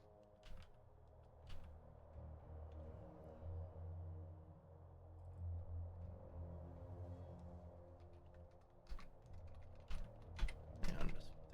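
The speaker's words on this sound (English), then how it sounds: "And I'm just typing here." Keyboard typing comes through as scattered clicks at a low, quiet level over a steady low hum, growing busier with a burst of keystrokes near the end.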